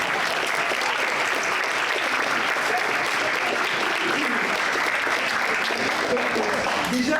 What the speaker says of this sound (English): il faudra m'applaudir un peu